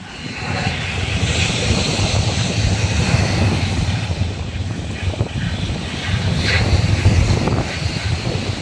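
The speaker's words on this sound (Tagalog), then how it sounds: "Grabe nga ano dito, ang alon ng lalaki." Big waves in Manila Bay near a drainage outfall roar continuously and loudly after Typhoon Uwan, a dense wash of surf mixed with heavy wind buffeting, with no speech.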